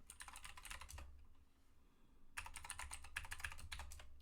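Computer keyboard being typed on in two quick bursts of close, crisp key clicks, separated by a short quiet pause, faint and alone.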